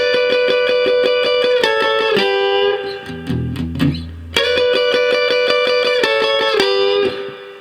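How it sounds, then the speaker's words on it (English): Electric guitar plays a quick repeating lick of double-stop paired notes in a Texas triplet rhythm over E, in blues style, with a brief lower riff in the middle, clear and close. "This is going to be using double stops and something that I call the Texas triplet."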